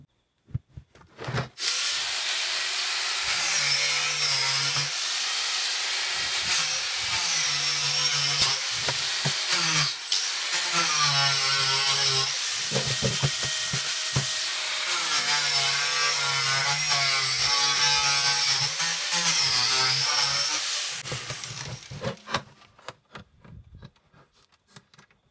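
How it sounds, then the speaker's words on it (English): An angle grinder cuts through the plastic drum of a Bosch washing machine, a loud continuous harsh whine that holds steady for about twenty seconds with slight dips in pitch under load, then winds down to quiet handling noise. "if we get an angle grinder and just cut through the plastic just in from where it is here, it should just melt through it because it's just plastic"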